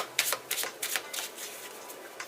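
Quick riffling flutters of a tarot deck being shuffled, several crisp papery bursts in a row, close and fairly soft, with no talking.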